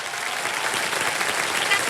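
Studio audience applause on a television quiz show, a steady, dense wash of many hands clapping that holds at an even level for the whole short stretch, with no voices on top.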